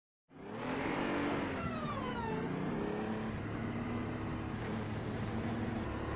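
Hypercar from a racing video game tearing around the Long Beach street circuit, its engine loud and steady with pitch sweeping through gear shifts, a continuous close roar with no talking.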